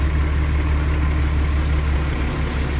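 An Allis Chalmers 200 tractor engine idles steadily, a loud, close low rumble with an even throb that holds without a break throughout.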